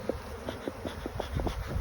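Honey bees buzzing around hive boxes during swarm season, a steady close hum with repeated brief louder passes of individual bees, no voices.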